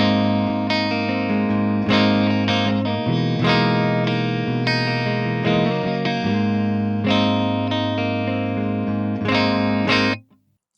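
An electric guitar played through the 50s USA clean channel of an H&K Triamp MKIII with the boost off, Fender-like in tone: ringing chords and single notes fill the passage without pause and then cut off abruptly near the end.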